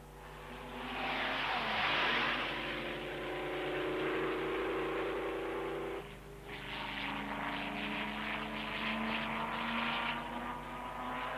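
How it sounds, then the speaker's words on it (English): 1930s Auto Union and Mercedes Silver Arrow Grand Prix racing cars climb uphill toward the carousel turn, a loud continuous engine roar with rising pitch that briefly dips and swells again as more cars pass, with no talking. "The cars rush uphill to the carousel turn."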